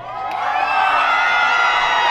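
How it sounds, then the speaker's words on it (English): Crowd at an opening-day cupcake eating contest bursts into loud cheering and whooping, swelling quickly and holding at full volume, with shrill excited voices mixed in. "I want to hear loud cheering from the crowd too."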